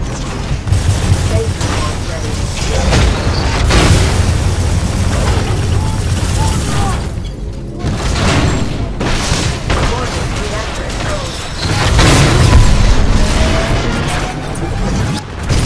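Titanfall 2 combat against a hostile Titan: dense, loud gunfire and booming explosions roll on continuously, with heavy low rumbles and mechanical clanks, and game voices shouting over the battle.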